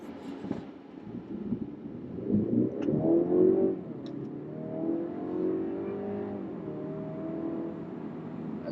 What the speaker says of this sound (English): Let's go ahead and start out with the 0 to 60 in sport mode here.